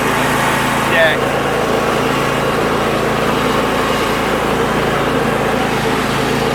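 Husqvarna riding lawn mower engine running steadily at close range, a loud continuous drone, with a brief faint voice near the start.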